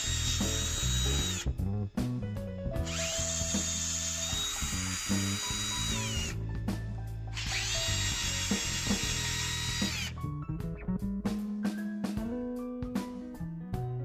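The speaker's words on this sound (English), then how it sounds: "Next, remove the three mounting screws holding the motor to the main frame." Power tool backing out the three screws that hold a motor to the main frame of a Baja vehicle: loud, close whirring runs of a drill or driver broken by pauses and clicking, ratchet-like mechanical ticks.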